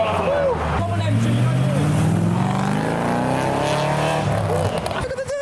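An MG car accelerates hard away from a car show, its engine note rising steadily and loud and close, then fading as it pulls off, with crowd voices around.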